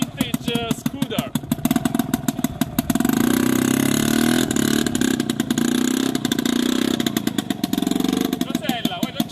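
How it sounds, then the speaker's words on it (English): A vintage 1968 scooter engine runs steadily throughout with mid-pitched puttering that swells into a sustained louder stretch midway, then settles back, while people talk over it. "a vintage scooter."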